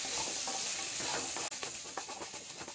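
Chopped tomato sautéing in a pan for white kurma, a steady close sizzle with a dense hiss broken by a quick pause, then continuing with uneven stirring scrapes.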